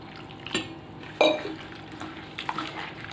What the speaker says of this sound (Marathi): गवार भाजल्यानंतर अशी धुवून घ्यायची।